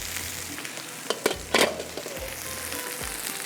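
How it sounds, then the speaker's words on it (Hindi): Chicken shallow-fries in a little oil over a slow flame with a steady close sizzle, broken by a few sharp clinks and scraping stirs. "इसको डीप फ्राई में नहीं कर रही हूँ, हल्का सा शैलो फ्राई"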